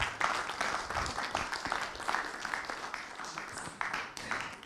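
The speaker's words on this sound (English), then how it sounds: "a huge round of applause for all" An audience at a quantum physics and consciousness conference claps in a loose, moderately loud round of applause, with individual hand claps audible as the rhythm wavers and thins.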